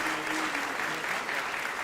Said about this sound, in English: let's give Simon a round of applause